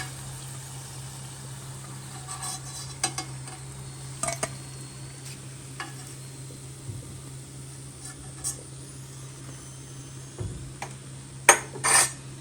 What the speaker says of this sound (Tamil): இதே மாதிரி நம்ம மற்ற எல்லா ஆனியன் ரிங்ஸும் டிப் பண்ணி எண்ணெயில் போட்டுக்குவோம்.